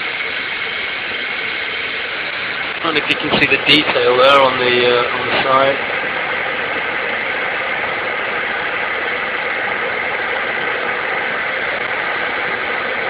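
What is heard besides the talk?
electric kettle heating water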